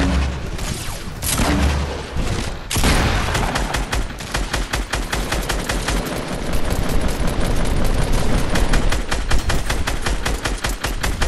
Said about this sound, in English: Why did he shoot him already?